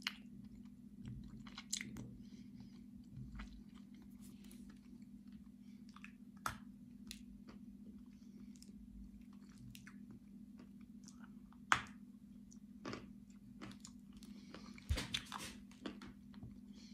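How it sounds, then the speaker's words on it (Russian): Someone bites with effort into a dense, hard Kyrgyz snack that tastes of sunflower seeds, then chews it close up. Sharp crunches and clicks come at irregular intervals over a quiet room hum, and nobody talks. "Откусывается с усилиями, она очень плотная."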